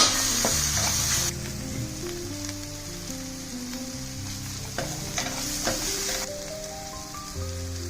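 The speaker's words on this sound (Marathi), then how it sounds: "आता हे चांगले तेल सुटूपर्यंत परतायचं आहे" Ground masala is stir-fried in oil for a spicy Maharashtrian kat misal, giving a close crackling sizzle with scattered scraping ticks. A loud steady hiss in the first seconds drops away, while background music plays throughout.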